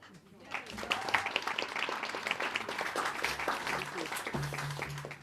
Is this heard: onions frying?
no